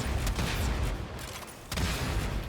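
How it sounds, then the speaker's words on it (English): Bassy explosion from the Boomstick Prime kitgun, a Tombfinger primary in the Warframe video game, heard as two heavy low booms, one at the start and another about halfway through, each trailing into a rumbling decay with no talk. "The majority of the damage here does come from the explosion, which is a nice and bassy sound."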